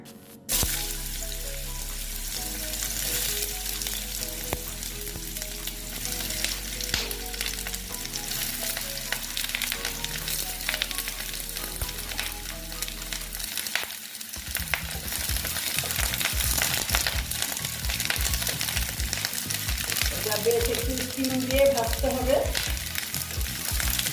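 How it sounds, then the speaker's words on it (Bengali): Snake gourd (chichinga) frying in hot oil gives a steady, dense sizzle throughout, with some stirring noise and a faint musical tone in the background early on. "এইবার আমি তেলে এটা ভেজে নেব"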